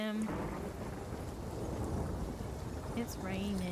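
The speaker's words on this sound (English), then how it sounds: "It's raining." Steady heavy rain with a low rumble of thunder in the survival video game Nightingale, a dense continuous hiss filling the scene, with brief voices at the start and end.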